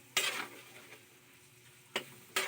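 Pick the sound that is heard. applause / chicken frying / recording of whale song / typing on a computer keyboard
chicken frying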